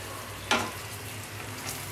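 A steady sizzle of paneer cubes frying in a hot pan for paneer butter masala, with one sharp burst as the cubes hit the oil, then an even frying hiss; no talking.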